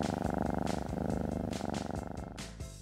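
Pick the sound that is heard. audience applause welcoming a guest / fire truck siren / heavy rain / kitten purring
kitten purring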